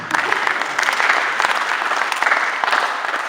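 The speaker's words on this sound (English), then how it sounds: "Clap for that." An audience claps steadily in a dense, even round of applause at close range.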